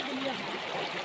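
Forest stream water flows steadily with a constant broadband rush, close and fairly loud, with no talking over it.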